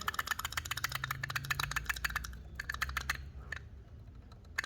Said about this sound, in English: So as you can see, I'm tapping it.